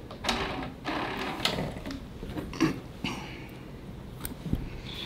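A sewing machine stitches a free-motion quilting pattern of pebbles, its motor running in a steady hum. The hum is broken by short bursts and clicks as the bobbin thread is brought up and trimmed, close and moderately loud.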